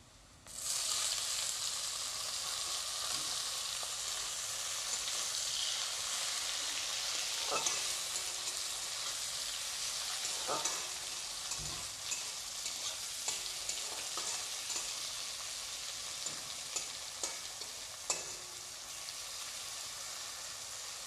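Tomatoes frying in a pan with browned onions for a fish curry with potatoes, giving a steady loud sizzle throughout, with intermittent scraping knocks of a spoon stirring.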